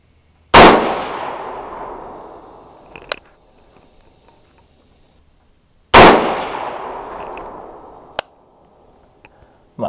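Two loud, sharp 6.5 Grendel rifle shots fired with 123-grain AMAX practice loads, spaced about five seconds apart, each with a decaying outdoor echo tail and small clinks between.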